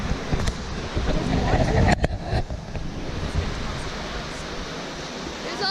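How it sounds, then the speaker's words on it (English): A river waterfall along a hiking trail gives off a steady broadband rushing roar, with wind buffeting the microphone and a brief louder surge near the two-second mark. "There's a cool river waterfall thing down there."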